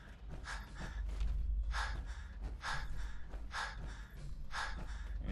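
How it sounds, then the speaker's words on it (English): Heavy, labored breathing from a character in Fallout 4, rhythmic gasping inhales and exhales repeating about once a second, close and steady over a low ambient hum. "I hear a lot of heavy breathing."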